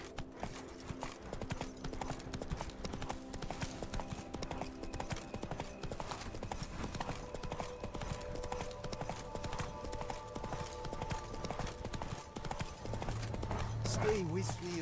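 Hooves of Roach, the horse in the video game The Witcher 3, clopping in a fast, steady rhythm throughout, with a brief whinny near the end, while a voice talks over the game sound.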